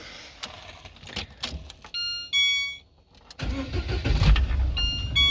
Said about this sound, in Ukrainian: Давайте тепер я заведу зараз автомобіль.